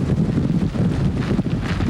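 Strong storm gusts of around 44 mph roar across the microphone in continuous loud buffeting rushes, close and unbroken for the whole stretch with no voices.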